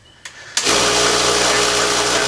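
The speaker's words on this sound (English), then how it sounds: "here's the beast of a compressor. Now, just to make the point, I'm going to keep talking. I'm going to switch it on here" A large air compressor suited to a Tormach PCNC 1100 power draw bar kicks on after a couple of small clicks, then roars into a loud, steady running drone that fills the rest of the moment.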